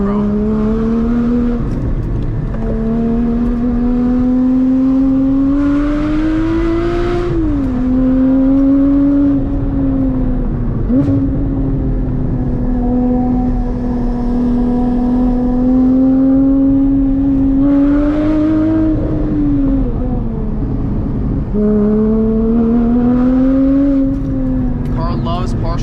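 A mid-engine Porsche GT4 engine drones and revs continuously on a track, pitch rising and dipping with throttle, loud and close, with a voice talking over it at times.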